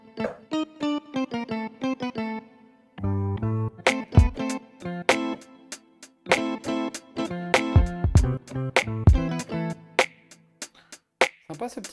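Plucked synth notes from the Native Instruments Soul Sessions Pluckington preset, played as loose runs and chords with sharp attacks and short decays, close and clear, with brief pauses between phrases.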